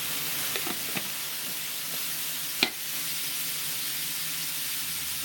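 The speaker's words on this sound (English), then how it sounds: "get ready for a big sizzling noise" Loud continuous sizzling of beef patties frying in a hot pan, with a few small pops and clicks, no voices.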